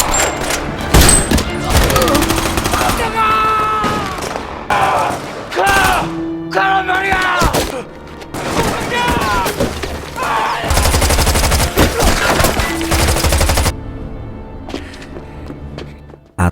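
Gunfire and bullets in a war film about the North Korea versus South Korea conflict: repeated bursts of automatic fire and single loud shots, with booms and thuds under a tense score, ending in quieter ringing.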